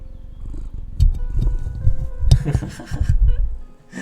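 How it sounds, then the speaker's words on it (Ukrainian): A cat purring in the village-building game Ostriv: a close, fairly loud low rumble with uneven throbbing pulses that swell and fade across the few seconds. "Ну, чути буде як муркат."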